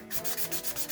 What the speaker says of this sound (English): Sand it this way.